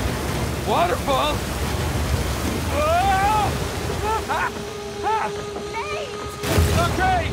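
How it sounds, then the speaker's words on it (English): A waterfall rushes in the video game Uncharted 4 as a broad, constant roar of churning water, joined by wind. Shouting voices break in over it several times. "Waterfall! Waterfall!"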